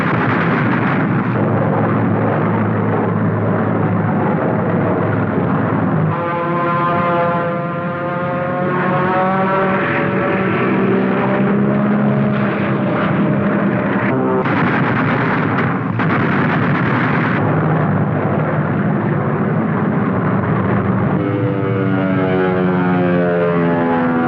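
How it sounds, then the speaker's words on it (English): Wartime P-47 Thunderbolt fighters dive on a bomber formation from 1943, their propeller engines droning and roaring loudly and continuously, with rising and falling pitch as they pass, and bursts of explosions and gunfire mixed in. "Bandits are sighted and begin their slashing attacks through the bomber formations, and the Thunderbolts are on top of the attackers."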